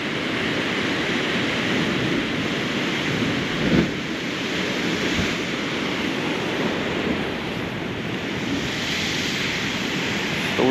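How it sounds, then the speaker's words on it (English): Ocean waves surge at a spouting horn on the coast at high tide, a loud, constant roar of churning surf with slight swells and no voices. "Waves are pretty good at the spouting horn today."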